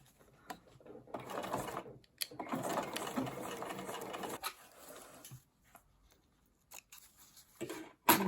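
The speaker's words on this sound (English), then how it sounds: "You're going to sew a square around the overlapping area." A sewing machine stitches a square over overlapped elastic for a skirt waistband, running in bursts of close, busy mechanical whirring with short stops and a few clicks between runs.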